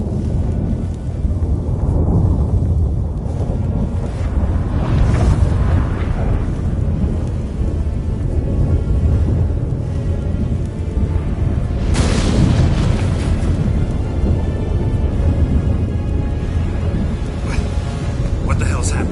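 Thunderstorm in The Witcher video game: continuous loud rumbling with heavy low roar and rain-like hiss, swelling into a stronger crash near the middle, with game dialogue and other sounds mixed in.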